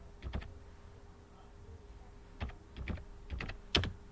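Computer keyboard being typed on while entering an rsync command: a handful of sharp, close key clicks, one near the start and a quick cluster of four near the end, over a faint steady hum with a quiet pause between.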